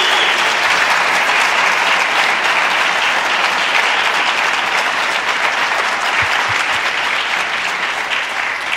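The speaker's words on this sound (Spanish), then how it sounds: "Denle una ofrenda de palmas a Cristo." Sustained applause from a large church congregation during a sermon, dense and loud clapping that carries on steadily without a break.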